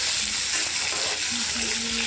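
Potatoes and okra, fried beforehand and now stirred back into a pan with tomatoes, sizzle in a steady, close hiss with light scraping of stirring throughout.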